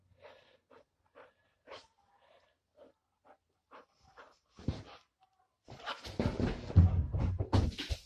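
A 4.5-month-old Mastiff puppy of about 50 pounds makes short snorting, panting breaths close by, then louder rough snuffles and grunts toward the end.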